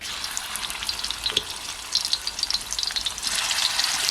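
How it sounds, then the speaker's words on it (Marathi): Fish coated in masala, salt and turmeric fry in oil on a hot tawa over a wood fire, crackling and spitting in bursts that grow denser and louder toward the end. "तवा तापला आहे तर तेल टाकून घेते आई आणि मग मासे फ्राय करूया"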